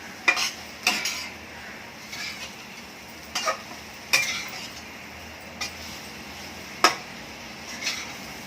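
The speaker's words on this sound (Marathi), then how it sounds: "त्याच्यामध्ये आपण आता हा गूळ टाकून घेऊया, लिंबा एवढा. थोडंसं मिक्स करून 1 मिनिट झाकून लावून ठेवायचं." Bitter gourd and jaggery get stirred in a pan with scattered light scrapes and clinks of a spoon against metal, over a faint background hiss, without speech.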